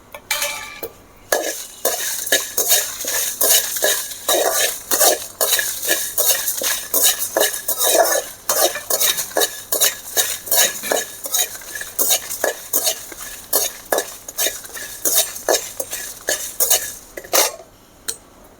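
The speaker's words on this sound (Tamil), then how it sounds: "நல்லா மல்லி வறுத்தாச்சு" Coriander seeds roast in a pan while a metal spoon stirs and scrapes them, giving a dense run of rhythmic clinks and scrapes over a faint sizzle, close and continuous.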